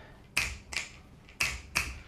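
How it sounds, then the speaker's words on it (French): Four crisp finger snaps ring out in an irregular pair-like rhythm, close and sharp against a quiet background. "les bruits de claquements de doigts"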